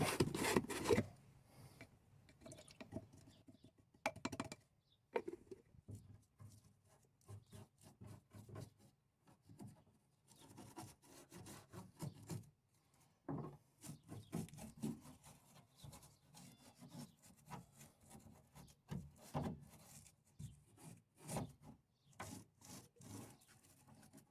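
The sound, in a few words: cleaning paint-clogged squares of a mosquito mesh vent grille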